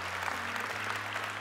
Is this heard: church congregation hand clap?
yes